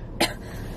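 A single short, sharp cough, close and clear, standing out alone against a quiet room background.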